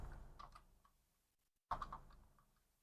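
Computer keyboard being typed on, a few light close key clicks, then a pause and a short quicker burst of taps.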